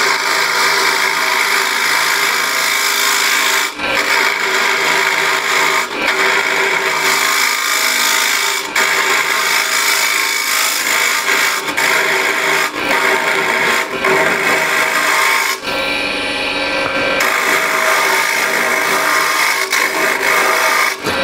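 A woodturning scraper cuts inside a deep hole in a workpiece spinning on a lathe, giving a loud, steady scraping and rasping drone broken by brief pauses and one longer gap.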